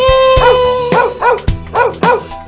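A house dog barks in a rapid string of four or five loud, close woofs, set within a Tamil children's nursery rhyme about home and forest animals, with a soft beat underneath.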